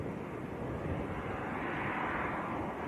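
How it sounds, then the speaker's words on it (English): A Ryanair jet departing Manchester Airport gives a steady, fairly loud broadband engine roar that holds level through the whole short stretch, with no voices. "Next departure, Ryanair making its way across."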